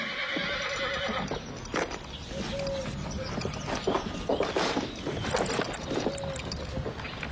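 A mare neighing faintly amid hoof clip-clop and scuffling on a ranch, the whinnies short and distant under a steady background noise.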